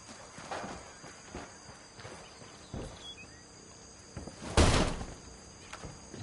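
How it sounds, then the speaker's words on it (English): A door kicked in during a Tom Clancy-style espionage shooter set in La Paz, Bolivia: one loud, sharp wooden crash rising above quieter footsteps and scattered thuds in the game's ambience. "Love kicking doors in."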